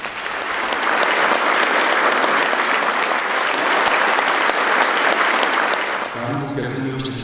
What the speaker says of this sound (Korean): 우리 모두 대통령님의 노고에 큰 박수로 고마움을 표시합니다.